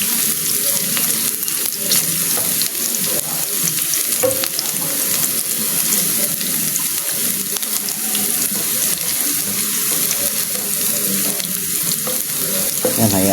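Garlic and onion sautéing in a pan as tomato goes in, a steady dense sizzle and crackle that stays loud and even throughout, with occasional faint stirring knocks and no talking.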